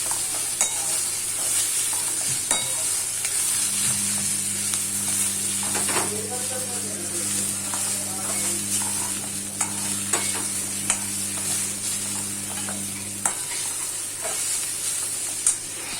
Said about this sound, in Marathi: आपला जो इथे कांदा आहे तो मस्त आपल्याला ब्राउन करून घ्यायचा आहे